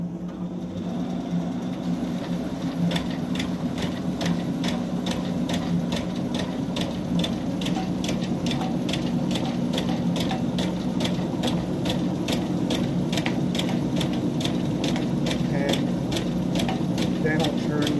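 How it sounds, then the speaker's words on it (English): A Rena T650 tabber runs with its conveyor on, stamping number 10 envelopes: a steady mechanical hum with a rapid, even clatter of repeated strikes, close and continuous throughout. "So I'll turn the conveyor on, and then I'll turn the machine on."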